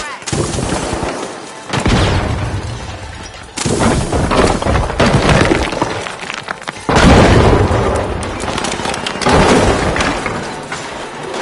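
Frag grenade blasts in the video game The Finals: four or five loud, heavy booming explosions arrive in waves, each with a rumbling, crackling tail that fills the mix.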